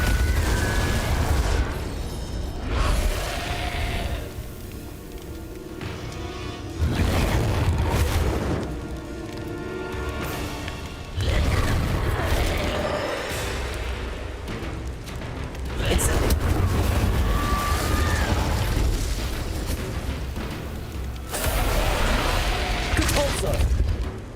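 Repeated Depulso spell blasts in Hogwarts Legacy come as heavy booming bursts every few seconds, each with a rumbling low-end tail, with a voice talking between them.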